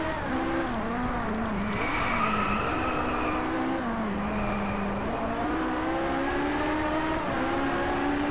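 A Ferrari race car engine roars steadily in the Driveclub racing game, pitch rising and dipping with gear changes and revs, loud and continuous throughout with tire noise beneath.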